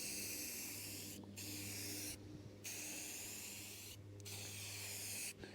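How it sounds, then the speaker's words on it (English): Spray paint hisses continuously onto steel planter parts outdoors, a steady airy spray broken by a few short pauses where the nozzle is released, with no talking. "Definitely do this outside because you don't want your overspray to be all over everything in the garage."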